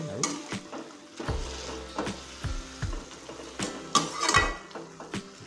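Radish greens fry in a pan while a utensil stirs them in repeated scraping strokes, clanking against the metal over a soft, steady sizzle.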